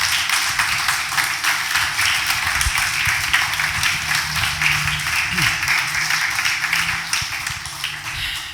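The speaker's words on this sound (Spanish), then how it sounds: "Vuelva a dar palmas fuertes al Rey de Reyes." A church congregation at a Saturday retreat service claps loudly and steadily together, a dense wash of applause sustained throughout, with a faint voice underneath.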